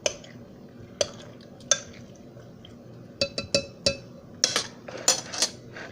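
Pico de gallo ingredients with garlic are mixed in a bowl, with scattered spoon clinks and taps against the bowl that come faster toward the end, close and fairly quiet, with no talking.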